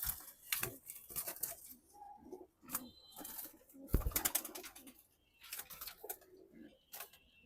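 Hamburg pigeons cooing in soft, intermittent bursts, mixed with sharp fluttering and scuffling noises, close but fairly quiet, with a faint voice now and then.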